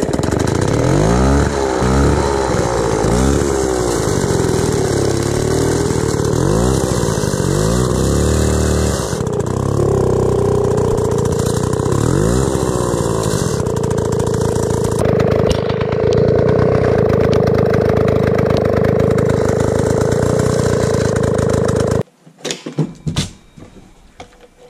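A chainsaw engine runs during a clutch test. It roars steadily at high, shifting revs for about twenty seconds, loud and close, with no one talking, then cuts off abruptly into a few sputters and clatters.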